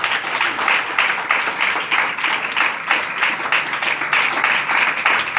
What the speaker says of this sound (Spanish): Démosle un aplauso fuerte al Rey.